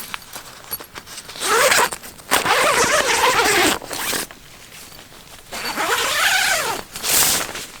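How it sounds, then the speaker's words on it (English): Zipper on an Ozark Trail tent being pulled open in several rasping bursts, close and loud, separated by short pauses. "If I can find the zipper"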